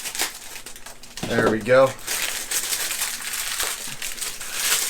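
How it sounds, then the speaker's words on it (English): Plastic wrapping crinkles and crumples as a Yamaha YTH-3920UBL satellite speaker is unwrapped up close, with rustling bursts throughout and a brief spoken voice partway through. "I'll go ahead and unwrap one of them just to show you what it looks like here."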